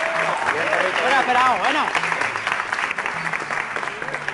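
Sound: audience applause

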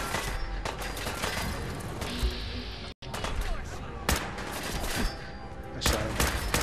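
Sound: combat rifle gunfire in video game Fallout 4

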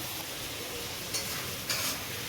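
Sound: prawns frying and being stirred in pan

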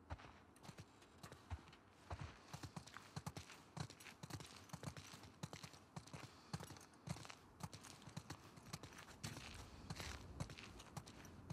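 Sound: horses clip-clopping, from video game The Last of Us Part II

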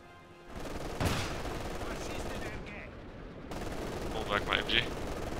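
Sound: machine gun fire in a war video game

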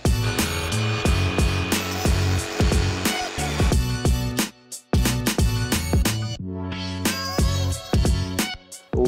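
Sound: jigsaw cutting wood

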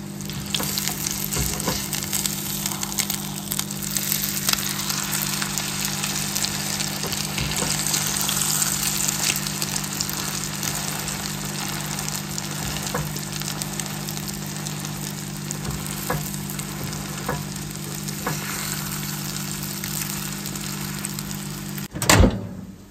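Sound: egg frying in a pan

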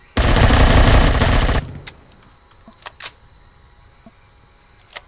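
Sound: gunfire in the video game Empyrion

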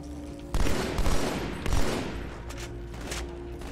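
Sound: gunfire from a gun in video game Halo 2

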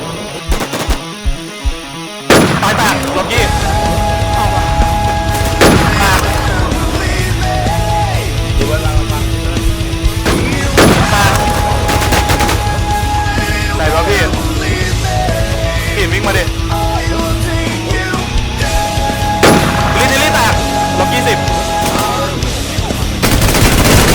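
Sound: gunfire in the video game Infestation

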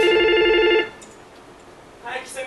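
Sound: telephone ringing in a comedy sketch

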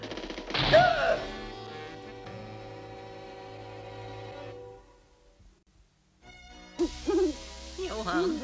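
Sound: owl hooting

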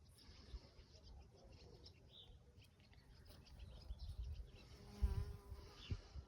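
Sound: bees buzzing around flowers

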